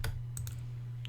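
Two or three light clicks of typing on a computer keyboard during a Minecraft building match, sounding over a steady low hum.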